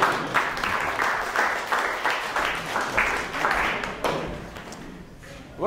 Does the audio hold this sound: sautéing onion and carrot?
no